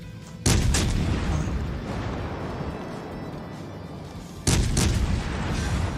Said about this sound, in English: Oh, I killed the Kaiser with torpedoes.